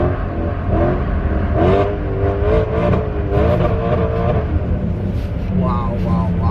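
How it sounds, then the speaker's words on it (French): A supercar with a straight pipe exhaust drifting, its engine revving hard in rising and falling surges, loud and close throughout, with voices talking over the roar. "Oh, ce bruit à travers le straight pipe est dingue"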